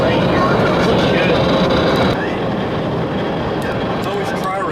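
A CSX coal freight train passing in Florida, a loud, steady broadband rumble and rail roar sustained throughout, easing slightly partway through, with a faint voice underneath.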